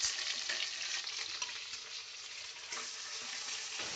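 Hilsa fish fries in oil for a coconut-milk hilsa pulao, giving a close, continuous sizzle and crackle that holds steady throughout with no one speaking.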